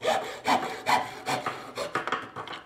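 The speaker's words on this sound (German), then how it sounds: "Man nimmt sich aber so eine Metallsäge," A hand hacksaw cuts through a 3D-printed plastic part for a router lift in steady, rhythmic back-and-forth strokes, about two per second, close and clear with no talking.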